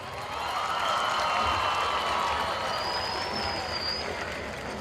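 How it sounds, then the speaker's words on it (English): A high school graduation crowd in a large venue applauds for the graduating class, a steady wash of distant clapping and cheering that swells and then holds. "Give yourselves a round of applause."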